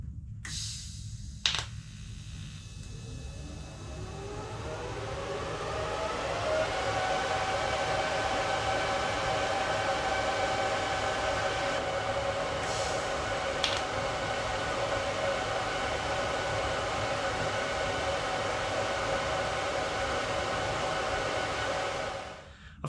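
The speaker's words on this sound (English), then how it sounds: "I've finished welding around the full circumference of the spindle now" Steady electric arc welding around the full circumference of a spindle on a garage-built 450cc Moto3 motorcycle, a continuous close buzzing hiss that rises after a few seconds and holds for about twenty seconds, with a couple of brief clicks and no talk.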